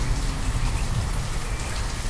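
Steady rain falls in the city-building game Banished, a dense, even hiss of drops on surfaces with no break, moderately loud and alone.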